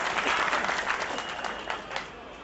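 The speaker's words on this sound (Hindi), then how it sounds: "जोरदार ताली से स्वागत करेंगे आप।" A crowd at a public event greets a guest with loud, dense applause, sustained for a couple of seconds and easing off toward the end.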